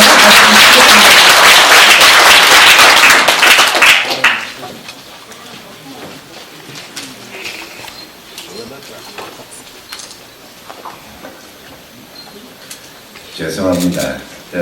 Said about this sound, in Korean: 뜨거운 박수로 맞아주시겠습니다.